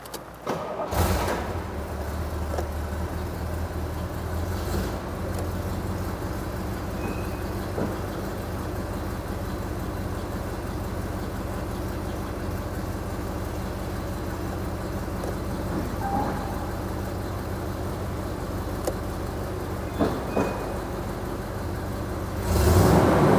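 A 1971 Corvette Stingray's engine idles steadily at a Las Vegas classic car dealership, a moderate low drone with a few brief clunks and knocks over it.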